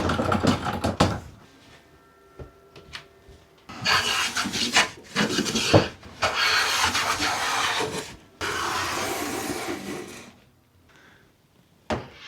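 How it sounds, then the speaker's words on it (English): A hand plane runs along the edge of a wooden board in several long rasping strokes separated by pauses and light knocks, close and fairly loud. "I'm going to get one edge planed down"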